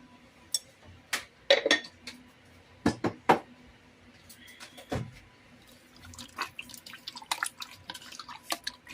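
Metal spoon stirring and clinking against a bowl while sugar is mixed into a pork steak marinade, with sharp intermittent taps and scrapes, close and fairly quiet.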